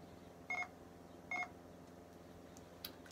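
Two short electronic beeps from NVDA screen reader software, about a second apart, sound quietly against a faint background hum, followed by a few soft clicks.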